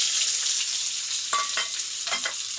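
Chopped onions mixed with salt and turmeric frying in a pan, with a steady hiss of oil throughout and a few short scraping stirs near the end, close and moderately loud.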